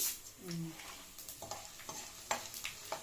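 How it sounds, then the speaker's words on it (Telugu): Tempering spices fry in oil in a home kitchen for a tomato curry, giving a close sizzle with scattered crackles and brief stirring scrapes, without speech. "తర్వాత పోపులు వేస్తున్నాను"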